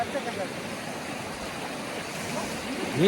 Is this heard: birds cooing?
no